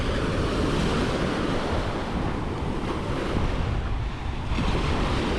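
Ocean waves wash onto a beach at Playa del Carmen in a steady, loud roar of surf, with wind noise buffeting the microphone and no voices.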